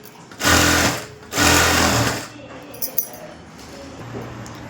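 Sewing machine stitching a princess-cut blouse lining, two loud steady bursts of running stitches close by with a pause between, then faint clinks and handling.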